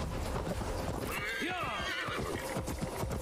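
A horse whinnies with a rising and falling cry in Assassin's Creed Valhalla. Dense game ambience and voices run under it throughout.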